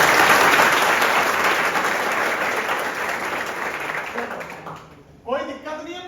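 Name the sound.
audience applause in a classroom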